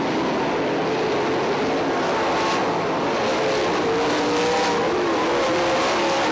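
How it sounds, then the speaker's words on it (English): 410 sprint cars race around Lawrenceburg Speedway, the engines a loud, continuous roar that rises and falls in pitch as the cars pass. "Kaley Gharst continues to roll around the speedway"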